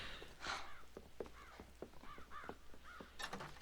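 Crows in the Red Dead Redemption video game caw repeatedly in a loose series of harsh calls that overlap one another, moderately close, with a steady background ambience behind them.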